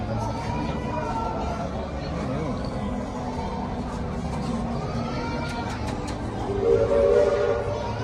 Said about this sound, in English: The train is still in motion.